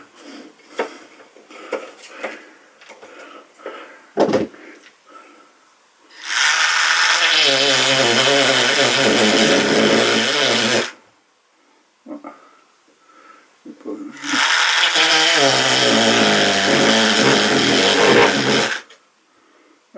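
A Parkside engraving tool buzzing loudly in two sustained runs of about four seconds each, separated by a pause, with a rough, vibrating whine, while scattered handling clicks and knocks fill the gaps.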